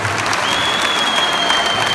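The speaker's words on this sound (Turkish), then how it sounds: "Bu kadar mı alkış yapıyorsunuz?" A concert audience at the Çağlak Festival applauds loudly and steadily at a show, a dense wash of clapping with crowd noise and a faint whistle-like tone running through it.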